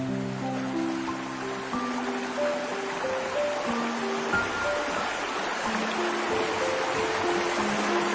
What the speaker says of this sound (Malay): anda semua melihat sungai ni airnya terus mengalir